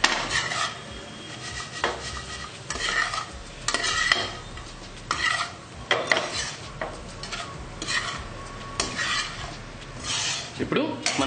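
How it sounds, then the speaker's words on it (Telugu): Frying potatoes being stirred in a pan with salt, producing repeated scraping and clattering strokes of a utensil against the pan over a soft sizzle. The strokes are close and irregular, with no talking. "ఇప్పుడు చివరిగా దించే ముందు లైట్గా ఇలా సాల్ట్ వేసుకొని టేస్ట్కి సరిపడంతా చక్కగా కలిపి పెట్టుకుందాం."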